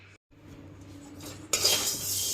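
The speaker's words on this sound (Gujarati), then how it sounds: "ધીમે ધીમે હલાવતા જવાનું છે, એટલે આવી રીતે ધીમે ધીમે ગુંદ ફૂલતો જશે।" Edible gum stirred in ghee in a pan, with a close metal spoon scraping and clinking, followed by a rising, louder hiss of frying toward the end.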